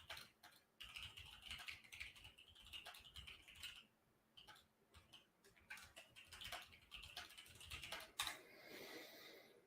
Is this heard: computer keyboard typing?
yes